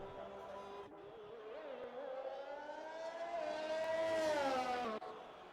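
An F1 race car engine in a racing video game at the Austrian Grand Prix, a steady high-pitched whine that climbs as it accelerates and peaks loudly near the end before dropping sharply on a shift.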